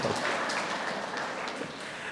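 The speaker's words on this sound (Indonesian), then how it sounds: "tepuk tangan" Steady applause from a crowd, a dense wash of clapping hands that continues throughout at a moderate level.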